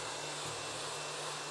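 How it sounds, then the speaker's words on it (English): A hair dryer on its cold setting blows a steady, soft whooshing stream of cool air at hair, with a faint low hum underneath and no speech. "just turn your hairdryer onto cold and just give them a little blast with cool air for about a minute or so"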